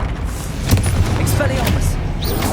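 A Confringo fire spell blasts in Hogwarts Legacy, a booming burst of explosive energy near the start amid a rumbling low-end battle din, with spell callouts voiced over it.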